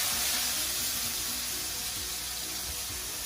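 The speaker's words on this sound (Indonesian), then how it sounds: "Nah, ini bawangnya kita masukin, kita tumis dulu." Onions sauté in a hot pan with a continuous, even hiss and crackle, moderately quiet and close, with no talking.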